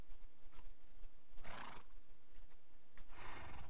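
A horse in the video game Minecraft, set in an old-west adventure, neighs twice in loud, bright whinnies separated by a short pause, with no talk over them.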